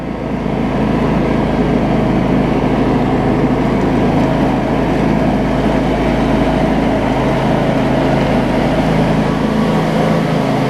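A John Deere X300 riding mower drives along at about five miles an hour, its engine a loud, steady, close drone with a low rumble that holds constant throughout.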